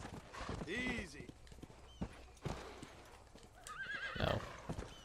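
Horse hooves clip-clop in the Red Dead Redemption video game, joined by a couple of whinnies at moderate loudness, with game dialogue and other voices layered over the riding.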